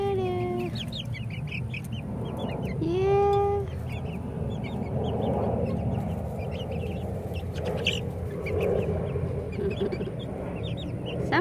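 Four-week-old Ameraucana chickens cluck and cheep intermittently in a yard, with a louder squawk early on and scattered short calls over a steady low rumble.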